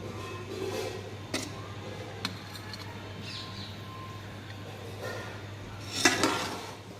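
Tahari rice being dished out from a pot: faint scraping and soft clinks of a spoon against metal, with a couple of sharp taps and a louder scrape near the end, no talk.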